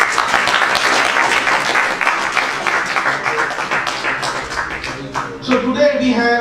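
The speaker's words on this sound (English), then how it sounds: "I request all of you to welcome him with a great or" Loud, sustained applause from an audience welcoming a visiting professor to a lecture on philosophy and yoga, a thick continuous clatter of many hands that eases near the end as a few musical tones come in.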